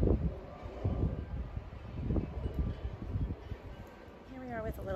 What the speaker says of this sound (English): I'm trying to hide in a corner because it's super windy.